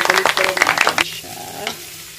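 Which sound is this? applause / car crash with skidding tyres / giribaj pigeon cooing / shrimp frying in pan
shrimp frying in pan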